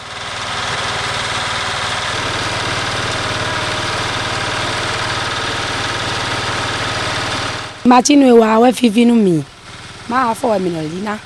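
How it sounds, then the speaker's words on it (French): A motorized mill grinds cooked palm fruits to separate the oil from the fibres and nuts, giving a steady, loud mechanical drone that runs unbroken for several seconds before it drops away and a voice speaks over it. "Une fois la cuisson terminée, ils passent à la meule. Celle-ci sépare l'huile des fibres et noix."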